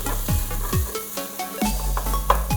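Chopped garlic sizzles and hisses in a hot pan while being stirred constantly, with the scrape and clatter of the spoon against the pan repeating close up, and no voices.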